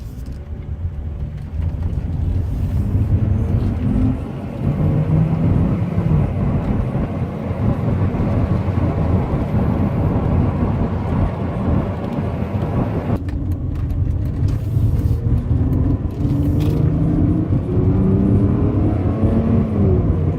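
A Mercedes-Benz W202 C280 engine starts with the key and runs with a steady, close hum and whir, briefly dipping partway through before settling back to an even running drone.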